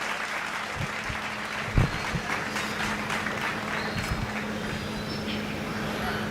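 Audience clapping fills a debate hall in a steady, dense wash to welcome a speaker, with a constant low hum beneath and a brief louder knock near the middle.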